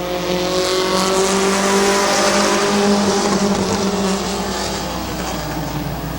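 Race cars in a heat race at Midvale Speedway roar together from the green flag in a loud, dense, sustained engine drone, with layered rising and falling engine tones and no speech.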